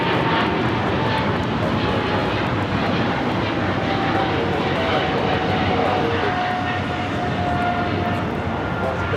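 Coletta Air airliner, flight 230, passing at LAX with a steady, loud engine rumble that holds throughout.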